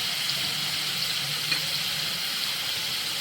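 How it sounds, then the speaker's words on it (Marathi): Masala for dry mutton sukka, with red chilli powder and mutton masala, fries in oil with a steady, close, hissing sizzle that stays constant throughout, with occasional faint stirring and no voices. "हे चांगलं तेल सुटेपर्यंत आपण आता भाजून घेऊया"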